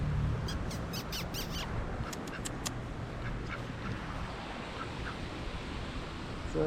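Ducks quack in a quick cluster near a pond, close and fairly clear at first, then fainter calls over a steady outdoor background.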